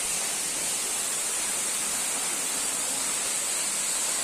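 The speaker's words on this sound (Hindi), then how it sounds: "इधर झरना गिर रहा है, इधर पानी ऊपर से आप देख सकते हो" A waterfall on the Kedarnath trek pours from high above in a steady, loud, unbroken roar of broadband rushing water, close and constant throughout with no voices.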